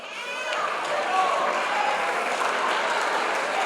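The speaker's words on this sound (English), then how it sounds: "Give yourself some applause." A panel-discussion audience of high school students breaks into warm applause, a dense, sustained patter of many hands clapping that swells slightly and holds steady throughout.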